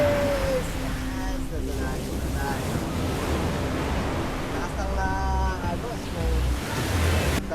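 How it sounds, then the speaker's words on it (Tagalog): Heavy surf churns in a steady roar along a shore after a typhoon, broad wind-buffeted wash filling the whole stretch with a few swelling surges, while voices talk over it. "malakas ang tubig, malakas ang alon kasi katatapos na ng bagyo"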